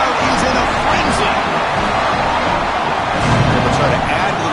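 A home crowd at a Texas football game roars in a frenzy after a touchdown, a dense, loud, sustained wall of cheering with a commentator talking over it.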